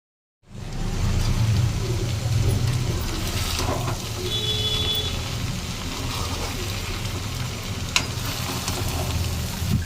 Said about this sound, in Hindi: अब बस इसको चला देते हैं अच्छे से, मतलब चलाते हुए इसको खूब अच्छे से पका लेंगे